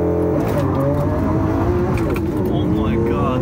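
A Lamborghini Aventador doing a launch control start roars hard as it accelerates up through the gears, loud and close, with rising engine tones and people shouting over it.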